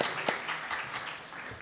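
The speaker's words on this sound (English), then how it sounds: "A round of applause for all the panelists." A panel audience gives a brief, fairly faint round of dense applause.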